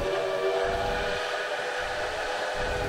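A train in the video game Railway Empire rolls along with a steady mechanical rumble and a sustained whistle-like tone that holds throughout. Nobody speaks over it.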